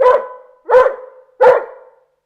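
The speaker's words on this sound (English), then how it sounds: "He was so excited that he began to bark" Timmy the dog barks excitedly, three loud, close barks spaced evenly about two-thirds of a second apart, each sharp onset trailing off briefly, with no other sound between.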